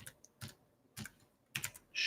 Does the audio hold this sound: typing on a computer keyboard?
yes